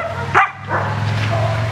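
A ten-year-old IPO3 protection dog gives one short, loud bark, close by, followed by lower whimpering or panting sounds.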